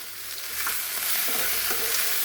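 Whole cumin seeds crackle and hiss in hot oil left after frying fish while being stirred, with a steady sizzle, occasional scraping and pops, close and continuous, no talking.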